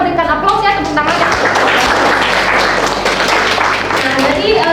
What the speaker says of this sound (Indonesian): kita berikan aplaus ya, tepuk tangannya